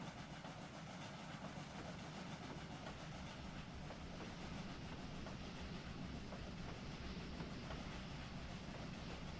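A model N&W train rolls out of a tunnel on a layout, a faint steady rumble with a light rhythmic clickety-clack of wheels over rail joints, no talking.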